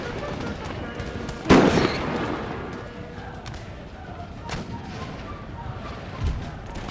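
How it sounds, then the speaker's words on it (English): Howitzer artillery in the Empire: Total War video game booms once loudly and close, followed by a few fainter distant reports and scattered thuds over a low battlefield rumble, with faint voices. "Howitzers fire into the center of this line infantry."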